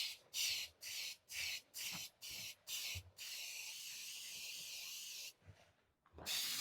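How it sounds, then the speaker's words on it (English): A run of short bursts of baking spray into cake pans in quick rhythm, then one long continuous hiss, a pause, and another burst, close by. "I'm going to spray them with baking spray."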